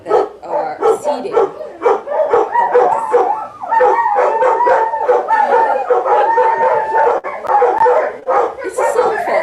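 Several dogs howl and yip together in a long, loud, wavering chorus that runs continuously, joining in with coyotes heard in the distance.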